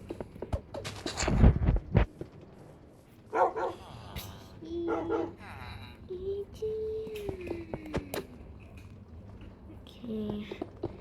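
A dog gives several short barks and yips close by, mixed with whimpering sounds and intermittent human talk over a low background hum.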